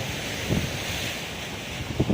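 Waves and wind at Kasimedu beach, with a steady broad rush of wind buffeting the microphone and soft surges of surf rolling in twice.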